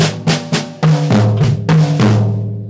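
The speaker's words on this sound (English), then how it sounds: "Then you put in a bass drum and hit the high tom and low tom and start over." Drum kit six-stroke roll, a quick cluster of snare strokes followed by a bass drum kick and hits on the high and low toms, played close and loud and repeated, with the toms ringing at the end.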